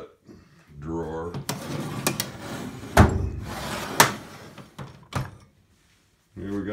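A metal toolbox drawer in a home machine shop slides open with thuds and clunks, and tools rattle and knock inside it while someone talks over the handling.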